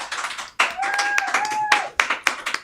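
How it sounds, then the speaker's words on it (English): A small studio audience on a TV show gives uneven clapping in short bursts, with a clear whistle rising above it midway. "A nice warm round of applause for"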